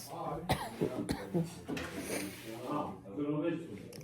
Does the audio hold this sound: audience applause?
no